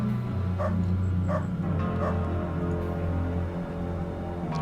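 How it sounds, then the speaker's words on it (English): Dog barking in the video game UnderRail, three or four short yips spaced about a second apart over a loud droning game soundtrack, with no talking. "Pretty sure it's that freaking dog seeing me through the window."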